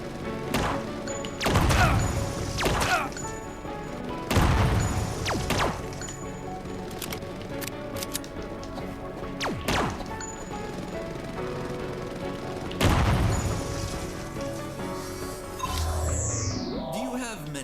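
Gunfire and explosions in the video game UnMetal: repeated loud, sharp bursts and crashing impacts spaced every few seconds over a busy layer of game music and effects, with a sweeping tone near the end.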